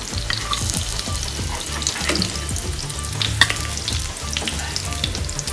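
Crispy chicken veggie buns frying in hot oil, a steady close sizzle with bubbling crackle and occasional stirring clinks throughout, no voices.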